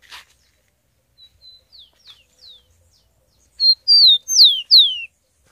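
A free, uncaged rufous-collared sparrow (tico-tico) gives a series of soft, scattered chirps, then a loud, clear run of four descending whistled song notes, nearby and alone.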